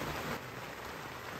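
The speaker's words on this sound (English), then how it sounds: "it is pouring down rain, thunder, and lightning" Heavy rain pours down at 3 a.m. during a night thunderstorm on the Inca Trail near Machu Picchu, a dense, steady close hiss of drops with no voices.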